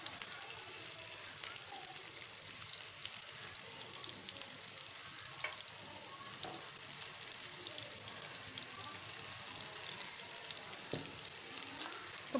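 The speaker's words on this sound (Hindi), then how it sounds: "यहाँ पे घी गरम हो गया, अब इसमें कबाब डाल देते हैं" Raw minced-meat kebabs fry in hot ghee over a low flame, giving a faint, steady sizzle with fine crackling pops that go on evenly for twelve seconds.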